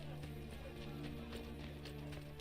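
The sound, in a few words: horse hooves clip-clopping in video game Assassin's Creed Brotherhood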